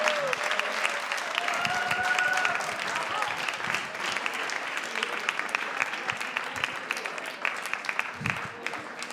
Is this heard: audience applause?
yes